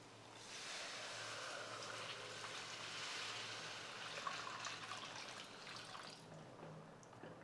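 A steady, soft rush of water pouring into a pan runs for several seconds, faint and even, with no voices.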